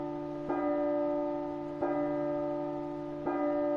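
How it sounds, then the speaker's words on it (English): Three slow, evenly spaced tolls of a deep church-style bell in the horror game P.T., each strike ringing out with a long sustained hum that carries into the next, no voices over it. "We'll wait for the bell to finish."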